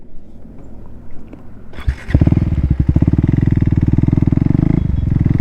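A KTM Duke 390 motorcycle starts out quiet, then its engine kicks in loudly near two seconds and holds a steady, throbbing pulse as it rides off, close and dominant throughout.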